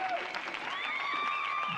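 An audience claps steadily for the full length, with whistle-like tones gliding through the applause and a voice speaking over it.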